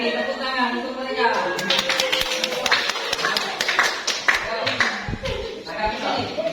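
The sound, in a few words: class clapping hands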